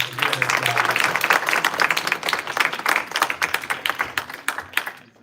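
Audience clapping at a birthday celebration gathering, dense close applause with many distinct hand claps that thins out and fades toward the end.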